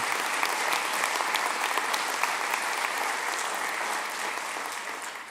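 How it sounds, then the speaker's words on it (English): A round of applause for the organizers of the SAMCEDA Awards of Excellence, a sustained, even wash of many hands clapping that fades slightly at the end. "how about a round of applause for Roseanne and Amanda and Diana of SAMCEDA putting on this event"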